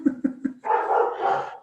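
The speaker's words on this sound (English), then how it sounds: "my dog's excited about the call." An excited dog lets out three quick, sharp barks, then a longer whining yelp, close and loud, with no voices over it.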